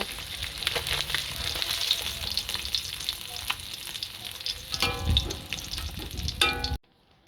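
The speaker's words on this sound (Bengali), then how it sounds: "দেখো, মাছ ভাজা আমার হয়ে এসছে।" Pieces of pona fish fry in oil in a kadai with a continuous close sizzle and crackle, a few brighter spatters near the end before the sound cuts abruptly to near silence.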